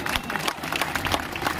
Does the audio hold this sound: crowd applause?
yes